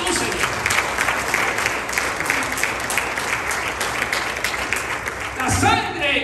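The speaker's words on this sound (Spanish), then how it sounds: "Dale otro fuerte aplauso a tu Señor." A church congregation claps loudly and steadily for about six seconds, the dense applause filling the room and swelling slightly near the end.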